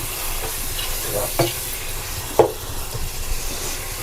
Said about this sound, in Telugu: ఇవన్నీ చక్కగా హైలోనే పెట్టుకుని చక్కగా వేయించుకోండి ఇలాగా